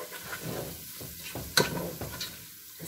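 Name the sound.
duck liver and gizzards frying and being stirred with onions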